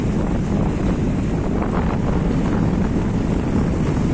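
A boat rocking out on the Java Sea, with steady rushing wind buffeting the microphone over the wash of waves, loud and continuous with no voices.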